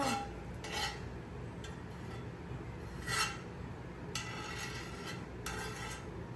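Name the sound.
scraping while spreading butter in a pan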